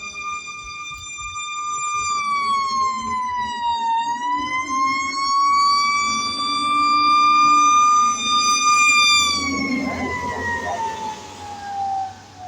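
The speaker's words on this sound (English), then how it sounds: "You're going to hear a fire. You're going to hear a siren." A fire engine siren wails loudly and close by, its pitch swooping down and back up, then fading into traffic rumble.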